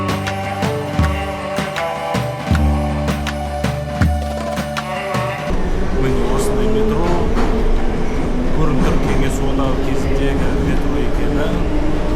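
A Baku metro train rumbles with a steady loud roar and rattling from inside the carriage after a stretch of rhythmic clanking, while a person talks over it.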